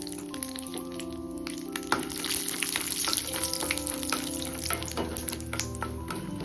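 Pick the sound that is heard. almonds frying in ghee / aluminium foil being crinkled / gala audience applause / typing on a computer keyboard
almonds frying in ghee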